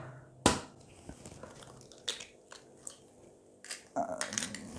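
An egg cracked against a plastic plate on a tablecloth-covered table, a sharp crack near the start and then a few softer crunches and wet shell sounds, close and quiet with no talking.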